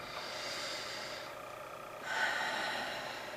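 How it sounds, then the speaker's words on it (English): A person takes a long, soft inhale, pauses briefly, then lets out a long, airy exhale. The deep breathing is quiet and close, with no talking. "Take a long inhale and a long exhale"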